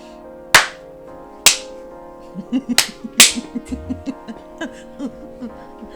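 A few sharp, loud hand claps ring out alone with long gaps, then a run of softer, quicker taps and knocks follows.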